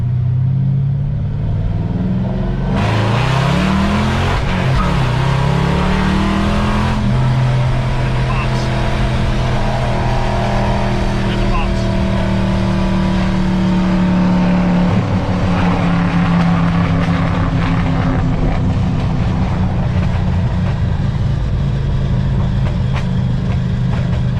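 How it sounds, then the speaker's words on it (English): A car out on a test drive after a control arm replacement, its engine and road noise a loud continuous rumble that rises as it speeds up, with people talking inside over the drone. "just got back from the test drive"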